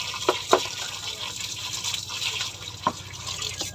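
Pieces of tuna for kilawin are rinsed under running water in a small sink, a faint trickle and splash with a few brief drips and clinks, quiet and close with no talking.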